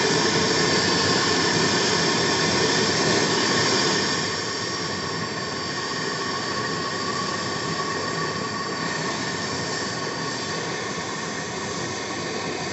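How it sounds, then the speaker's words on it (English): A torch burns carbon and oil out of the muffler of a Stihl BR 350 backpack blower, producing a loud, steady, continuous roaring hiss that drops slightly in level partway through, with no speech. "Now we're going to go ahead and cook out this muffler with a torch."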